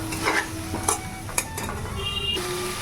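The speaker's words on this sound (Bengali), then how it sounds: "ওলটা ভাজা হয়ে গেছে এই দেখো এবারে মশলাগুলো এর মধ্যে আদা বাটা লঙ্কা হলুদ নুন সব দেওয়া আছে এবার একটু কষে নেবো" Fried elephant foot yam sautés in a pan with ginger paste, chili, turmeric and salt, producing a steady sizzle broken by a few sharp clinks and scrapes of a spatula against metal, up close.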